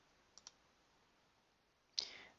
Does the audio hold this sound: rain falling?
no